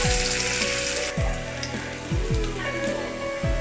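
Chopped onions browning in hot oil for lau shak, a steady loud close sizzle with a few scraping stir strokes and clinks of the spatula against the pan, no one speaking.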